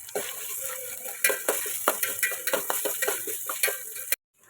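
Ginger, green chili and curry leaves are stirred together for Kerala-style tuna pickle, giving quick repeated scraping and tapping of a spoon against a pan under a low, steady sizzle, then a sudden stop.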